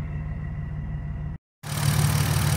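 A BMW E46 engine running on E85 idles steadily with a rhythmic low hum and fine ticking from the fuel injectors, cutting out briefly before resuming louder and closer.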